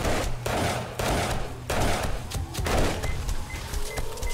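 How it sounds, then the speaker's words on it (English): Automatic turrets firing in 7 Days to Die during a horde night at the Launch Site, rapid continuous mechanical gunfire bursts in a steady chattering rhythm, fairly loud and close, with no talk over it. "turrets are kicking up now as well"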